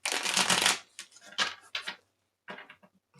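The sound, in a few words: shuffling tarot cards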